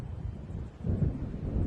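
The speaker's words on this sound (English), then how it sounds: "It seems there's a storm coming." A low rumble of thunder from an approaching storm in the video game Alan Wake, a muffled deep roll that swells midway and lingers over a windy background.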